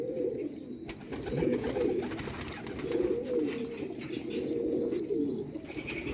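Sialkoti chuhe pigeons on a rooftop in Sialkot, cooing in repeated low rolling phrases, close and fairly loud, with faint background noise and no speech.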